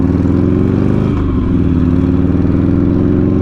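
A Buell XB9S motorcycle engine pulls hard under acceleration while being ridden, a loud, close, rumbling drone whose pitch climbs steadily, with a brief dip and shift partway through.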